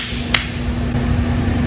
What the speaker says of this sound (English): First of all is a slap,